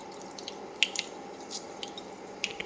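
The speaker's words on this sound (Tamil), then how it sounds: "கடுகு பொரிஞ்சிருச்சு" Mustard seeds splutter in hot oil in a pan for a small gooseberry pickle, giving scattered small pops and crackles over a soft, steady sizzle.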